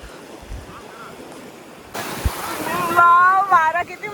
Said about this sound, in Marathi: वाव वारा किती मस्त आहे.